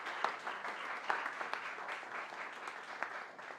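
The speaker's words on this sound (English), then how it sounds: "Let's give Michael a big round of applause." Steady audience applause at a public speaking masterclass, a room full of clapping with sharp individual claps popping out, moderately loud and unbroken for a few seconds.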